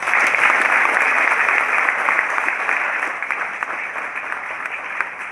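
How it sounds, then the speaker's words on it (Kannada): An audience applauds drama performers at a stage play competition. The clapping is loud and dense, close and sustained, and thins slightly toward the end. "ಎಲ್ಲ ಕಲಾವಿದರಿಗೂ ನಿರ್ದೇಶಕರಿಗೂ ಒಂದು ಜೋರಾದ ಚಪ್ಪಾಳೆ"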